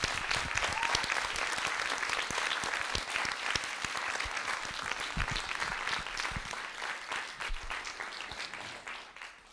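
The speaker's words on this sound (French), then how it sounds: "On peut encore les applaudir." An audience at a project review session applauds the presenters, a sustained wash of many hands clapping with crisp individual claps standing out, tapering slightly toward the end.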